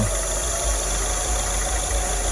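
A 2002 Acura RSX Type S engine idling with an idle surge fault, a steady close rumble with a faint periodic pulsing as the RPM wavers.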